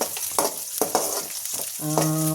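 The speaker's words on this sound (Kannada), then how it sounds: "ಚೆನ್ನಾಗಿ ಸ್ವಲ್ಪ ಕೆಂಪು ಹತ್ತಬೇಕು ಅಲ್ಲಿ ತನಕ ನೀವು ಫ್ರೈ ಮಾಡ್ಕೋಬೇಕಾಗತ್ತೆ" Something frying in oil until it turns reddish, a steady close sizzle with several sharp scraping stirs of a spatula against the pan, no talking.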